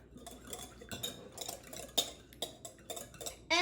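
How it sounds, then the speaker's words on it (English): Salad dressing for a Greek salad being whisked in a bowl, quick rhythmic metallic clicks and scrapes of the whisk, close and fairly quiet, with no voice. "We're going to whisk."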